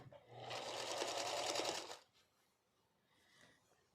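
A sewing machine stitching pieces of a scrappy quilt runs in one steady, close, loud whirring burst for about two seconds, then stops, leaving faint room noise.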